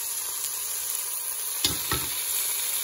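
Chicken pieces brown in an Instant Pot on the saute setting, giving a steady close sizzle with a couple of brief scraping stirs, no talking.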